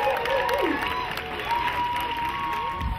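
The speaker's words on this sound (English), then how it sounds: "I just want everyone to give them a round of applause for taking part." An audience applauds young participants at a community event, a continuous wash of clapping mixed with crowd noise and scattered cheering voices and whoops.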